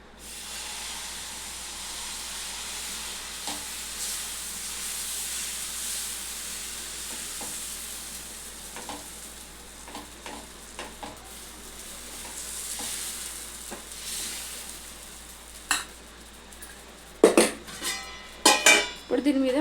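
Dosa batter spread on a hot pan for street-style egg dosa, with a soft continuous hiss of sizzling and scattered scrapes and taps, then louder sharp clatters of a utensil against the pan near the end.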